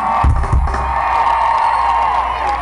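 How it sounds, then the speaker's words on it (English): Concert crowd at Hersheypark cheering and applauding for a rock show, a loud continuous roar with a few shouts near the start, sustained throughout. "Give yourself a round of applause."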